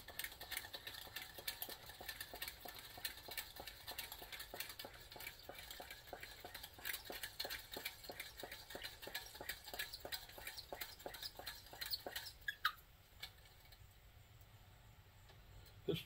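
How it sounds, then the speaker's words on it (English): A Coleman Peak 1 model 576-700 backpacking stove's fuel tank being hand-pumped, a steady run of quick, even rhythmic strokes for about twelve seconds, close and moderately loud, ending in a sharp click and then quiet. "We'll pump it till it feels tight."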